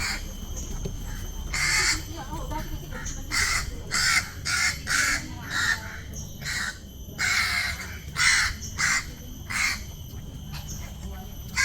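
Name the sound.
crow cawing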